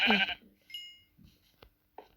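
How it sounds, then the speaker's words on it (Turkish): Sheep bleating in the video game Minecraft, a few short separate bleats and small game sounds heard alone at moderate loudness, with brief quiet gaps between them. "Bir tane koyun var sanki."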